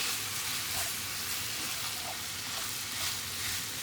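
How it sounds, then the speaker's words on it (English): Steady, crackling sizzle of Italian sausage frying in a pan, a continuous hiss with no talking. "We are frying some Italian sausage."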